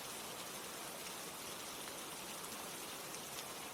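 Steady rain pours in a dense, even hiss that runs constant throughout, with no voices.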